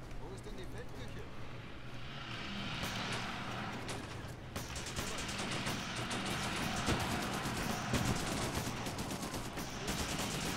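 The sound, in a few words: gunfire in video game Blitzkrieg 3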